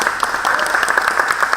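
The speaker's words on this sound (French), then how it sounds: "ça mérite aussi des applaudissements par rapport à ça depuis le départ" Audience applause at a French federation event fills the room, a steady dense patter of many hands clapping throughout, fairly loud and close.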